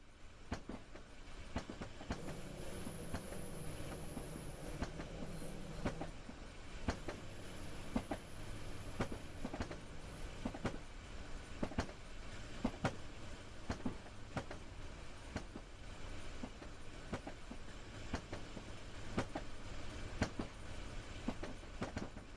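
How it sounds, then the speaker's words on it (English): A BR422 electric multiple unit on an S-Bahn route in the Rhein-Ruhr area, simulated in Train Sim World, rolls along with steady rail rumble and repeated clickety-clack wheel beats over joints, with a faint high squeal early on. "You're currently riding a BR422 electric multiple unit."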